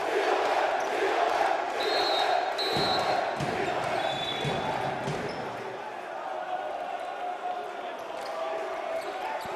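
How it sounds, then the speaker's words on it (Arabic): A basketball arena crowd at a Lebanese championship game between Riyadi and Homenetmen roars and presses loudly and continuously, with a commentator talking over the noise. "وشوفوا الجمهور قد ايه عم يضغط."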